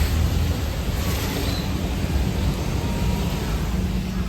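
Heavy monsoon rain keeps falling onto the road, a constant full-band wash of noise that stays even throughout, with no speech over it.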